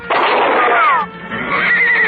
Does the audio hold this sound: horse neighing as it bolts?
yes